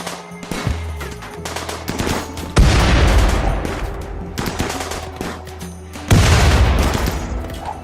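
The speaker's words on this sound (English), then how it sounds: "Right, Hubbard is being shot at, which is concerning." Rimworld combat in an arid shrubland map: rapid bursts of machine-gun fire and heavy booming explosions, loud and close, in several waves with no talk over them.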